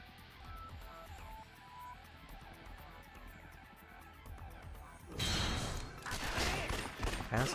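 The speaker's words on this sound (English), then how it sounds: "we get to try out our golden pistol on the way" A golden pistol fires in the Yakuza Dead Souls video game: after a quiet stretch with a soft background bed, a loud, dense burst of rapid gunshots breaks out and keeps going to the end.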